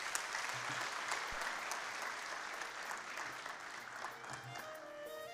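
An audience at a corporate event for NSSF Uganda applauds steadily, dense clapping from many hands sustained throughout at moderate distance, with no voice over it.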